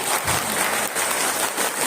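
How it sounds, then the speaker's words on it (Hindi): A congregation at a Catholic ashram prayer gathering claps loudly together, a dense, continuous wash of applause from many hands filling the room. "जोर से ताली बजाइए ईश्वर के लिए।"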